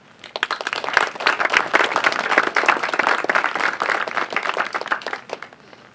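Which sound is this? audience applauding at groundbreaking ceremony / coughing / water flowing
audience applauding at groundbreaking ceremony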